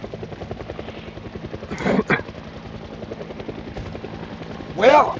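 A helicopter drones steadily with a rhythmic rotor chop, close and fairly loud over a lake during a road trip, while people talk over it with brief louder bursts.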